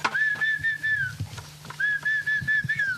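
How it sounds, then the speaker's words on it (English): A man whistles on a farm to call ducks and other livestock, two long sustained whistled notes with slight pitch bends separated by a short pause, close and clear over faint background sounds. "Everything responds to my whistle."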